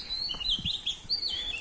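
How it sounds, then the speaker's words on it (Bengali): Several birds chirp and tweet in quick, high bursts across the clip, fairly close, over a quiet outdoor background on Tarani hill, with no talking. "এদিকে এই যে পাখি ডাকছে বিভিন্ন ধরনের পাখি"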